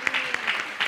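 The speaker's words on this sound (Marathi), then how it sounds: "टाळ्यांचा गजर करा" A church congregation claps during a sermon, a brief, moderately loud burst of applause with irregular hand claps close by.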